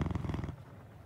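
A cat purrs in the video game Lovecraft Country Book of Hours, a brief close rhythmic rumble that fades out after half a second.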